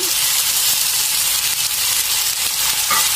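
Cauliflower, potato and duck eggs with turmeric and salt fry steadily in a pan, giving a loud, continuous sizzle and hiss with no speech over it.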